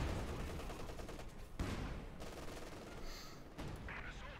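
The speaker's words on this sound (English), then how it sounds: "overlapping machine guns." Overlapping machine gun fire from Company of Heroes 2 real-time strategy battle, a dense continuous rattle of bursts layered with other battle noise, with a voice talking over it.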